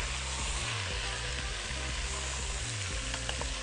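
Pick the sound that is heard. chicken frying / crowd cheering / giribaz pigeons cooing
chicken frying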